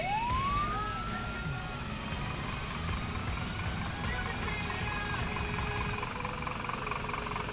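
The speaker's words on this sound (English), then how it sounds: "Dual siren? Sounds like dual siren," A fire ladder truck's dual siren wails and rises, then settles into yelping sweeps over traffic rumble, loud and passing nearby, with faint voices in the background.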